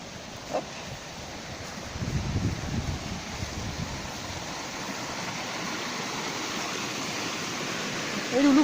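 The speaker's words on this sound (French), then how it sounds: "C'est agréable le bruit de l'eau." Continuous rushing of water in a nearby small stream on a countryside hike, a steady broadband wash with a few faint knocks and footsteps over it.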